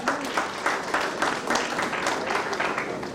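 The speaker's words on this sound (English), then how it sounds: "Let's give NetOne another big round of applause." An audience gives NetOne a round of applause at a product launch, rhythmic clapping with a pulsing, fairly close quality that continues steadily throughout.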